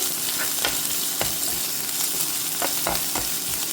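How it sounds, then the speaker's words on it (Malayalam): Mustard seeds and crushed shallots fry in coconut oil, giving a steady close sizzle with several sharp spatula scrapes and seed pops at irregular moments; no voices. "അതിനായിട്ട് നമുക്ക് ആദ്യം കുറച്ച് വെളിച്ചെണ്ണ ഒഴിച്ചു, പിന്നെ കടുക് ഇട്ട്, അതിന് ചെറിയ ഉള്ളി ചതച്ച് ഇതിലേക്കിട്ട്"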